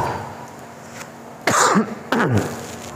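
Two harsh coughs in quick succession, near and loud, after a quiet stretch.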